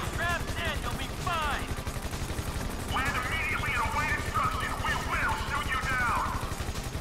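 Gunfire in Grand Theft Auto V online play, rapid bursts of shots cracking over a constant engine-like rumble, with voices talking over it.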